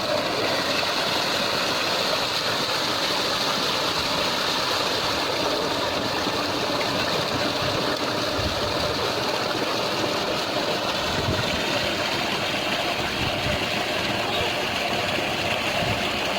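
Electric tubewell pump in a Punjab village running steadily, with water gushing continuously from the outlet; a loud, unbroken broadband roar throughout, with no other sounds standing out.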